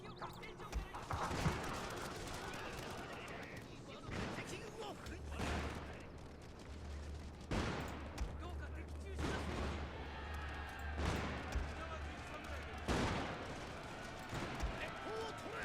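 In the Shogun 2 Total War video game, ranks of troops fire gunfire volleys: several sharp, booming bursts crack out at irregular intervals over battlefield ambience, with someone talking over much of it.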